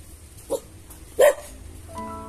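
A dog gives two sharp barks outdoors while being tied up, the second louder and closer, followed by a faint whine.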